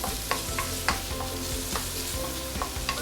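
Carrot stir-frying in orange-tinged oil for Singapore-style fried beehoon, a steady close sizzle broken by repeated spatula scrapes and clinks, with no talking.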